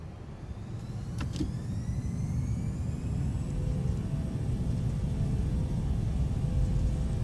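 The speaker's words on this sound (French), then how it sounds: "Le bruit des moteurs est pas mal par contre, ça c'est un avantage." Steady, loud Airbus A340-300 jet engine roar in Microsoft Flight Simulator 2020 fills the whole stretch, with a thin high whine that slowly rises in pitch over the rumble.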